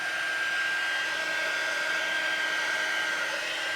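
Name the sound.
heat tool blowing hot air on baby wipes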